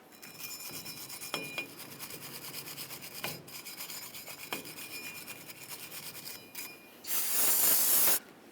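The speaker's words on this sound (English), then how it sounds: "Now we're going to clean the hub mating surface of the axle so we can install our rotor using a wire brush." Wire brush scrubbing the hub mating surface of a Ford F-150 rear axle: a series of quiet, raspy scraping strokes with brief pauses, ending in a louder, harsher burst of brushing.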